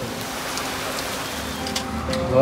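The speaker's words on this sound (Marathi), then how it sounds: "पाऊस आला बघ" Steady rain hisses across the whole stretch, a dense even patter that swells a little louder toward the end.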